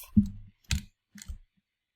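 A computer keyboard key is pressed a few times in a quiet room, three distinct close clicks spaced about half a second apart, with nothing else around them.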